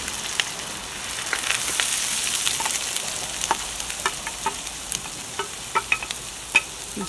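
Ginger and garlic fry in hot oil, a soft, continuous sizzle punctuated by frequent sharp crackles and pops that grow more frequent toward the end.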